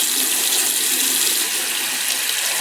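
Steady running water gushes from a tap as a makeup brush is rinsed back and forth on a Sigma cleaning mat, a loud continuous broadband rush with no pauses.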